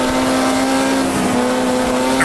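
Formula Junior race car in Automobilista 2 sim racing, engine held at a steady loud drone in first gear under heavy throttle, constant near and alone with no talk.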